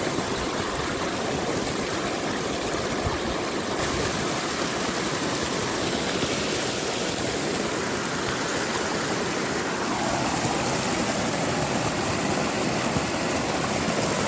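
Fast-flowing water rushes steadily through a flooded field channel where fish are being netted, a dense, continuous roar with no voices.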